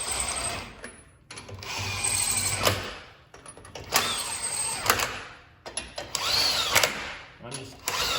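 A Bosch 18-volt lithium-ion cordless drill drives fasteners in several close, loud bursts of whirring with short pauses between them.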